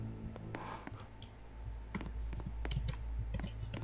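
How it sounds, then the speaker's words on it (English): Typing on a computer keyboard during a Roblox Lumber Tycoon 2 game session: quick irregular clicks and key taps, close and fairly quiet, over a low background hum. "I know, I was typing"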